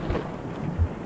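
Thunderstorm in the horror video game Choo Choo Charles: low rumbling thunder with a steady wash of rain and wind, a deeper roll swelling near the end, fairly quiet and with no voices.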